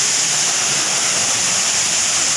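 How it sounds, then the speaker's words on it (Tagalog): Mahayahay Falls in Matalom, Leyte, Philippines, a steady, loud rush of falling water with a dense hiss and no other sounds. "Soroy na mo diri sa Mayahay Falls."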